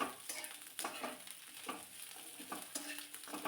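Chopped vegetables including carrot are sautéed in a pan over a low flame, a soft sizzle punctuated by several spoon scrapes and taps as they are stirred, fairly quiet and close, no talk.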